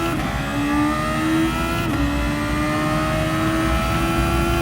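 Race car engine in a video game at Suzuka, accelerating through gear changes with a steady, loud, high-pitched whine whose pitch climbs and steps; no talking.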